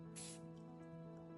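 A single short hiss of chain lube sprayed onto a road bike chain near the start, over a low steady electrical hum, followed by faint soft sounds.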